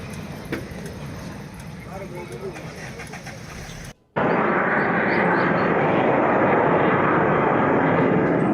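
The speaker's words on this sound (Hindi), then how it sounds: "मैं फाइटर जेट्स की उस आवाज को महसूस कर पा रहा हूं" Fighter jets flying over an airbase make a loud, steady roar that cuts out briefly and then comes back stronger and more sustained, as from a close pass.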